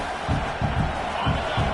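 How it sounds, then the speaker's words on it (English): Home crowd at a Clemson versus Ohio State football game roars in a steady wash of cheering, with low rhythmic surges pulsing through the noise. "this home crowd is fired up and ready to make a difference today"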